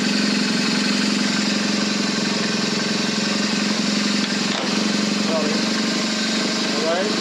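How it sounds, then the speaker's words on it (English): Motorcycle engine running steadily with the rear wheel spinning, a constant loud mechanical drone with whine lasting throughout at close range. "So I run the rear wheel."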